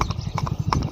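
A horse clip-clops in a quick steady rhythm of close, loud hoofbeats, with faint voices underneath.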